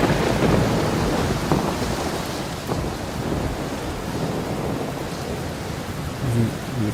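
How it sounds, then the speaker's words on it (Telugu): Steady heavy rain with rumbling thunder pours down continuously, a dense wash of downpour with deep rolls of thunder beneath it and no voices. "ఈ టైంలో వర్షం ఏంటి?"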